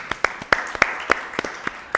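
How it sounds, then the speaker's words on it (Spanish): A few steady, evenly spaced hand claps ring out after a long story on an Argentine talk show, close and crisp, fairly quiet with no talk over them. "la vamos a aplaudir"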